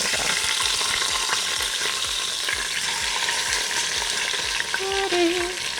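Chunks of rump roast sizzle and fry steadily in a hot pan, a dense continuous crackle with occasional scraping of a utensil near the end, no voices.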